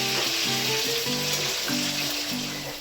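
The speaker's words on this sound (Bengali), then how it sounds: "আলুগুলো ভাজা হোক ততক্ষণে আমি বাসনগুলো কিছু ধুয়ে নিই।" Potatoes frying in a pan give a loud, dense, continuous sizzle, with a low humming tonal sound running underneath throughout.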